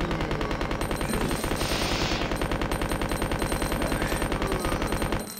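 Rapid, continuous gunfire from Resident Evil 2 on the Dreamcast rattles in a dense, evenly paced burst of shots, loud and unbroken for several seconds, with no talking over it.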